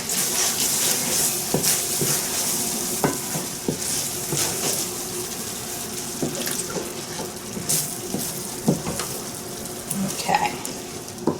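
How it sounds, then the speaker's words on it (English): Sausage sizzling in a frying pan while making shrimp and grits, a steady hiss with scattered pops and light scraping clicks from utensils, close and continuous with no talking. "I am going to add back my sausage, just so that can be flavoring it up."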